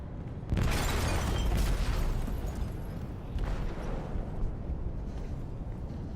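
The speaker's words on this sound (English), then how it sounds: "They detonated an explosive in the hold." An explosive detonates in a ship's hold in a video game: a heavy, loud blast bursts out suddenly and then rolls on as a long, dense rumble with scattered debris and crackling.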